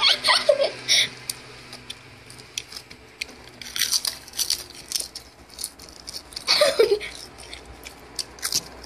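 Hard candy being bitten and chewed up close, with a few sharp crunchy bites standing out over quieter chewing, joined by giggles and soft talk.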